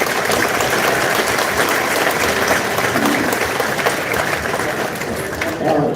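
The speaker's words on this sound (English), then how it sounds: "deserve a round of applause for our sponsors" Outdoor crowd under a tent at a moose permit lottery event in Farmington, Maine, applauding steadily and loudly throughout, a dense continuous wash of clapping with no pauses.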